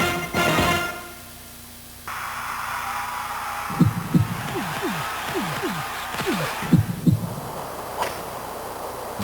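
A synthetic heartbeat effect in an ESPN SportsCenter sports promo thumps in a steady run of soft paired low beats, following a short burst of sound and a brief lull, with no talking over it.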